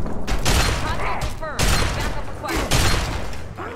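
Rapid gunfire in a first-person video game, bursts of loud close shots with booming impacts in quick succession, with voices talking over the action.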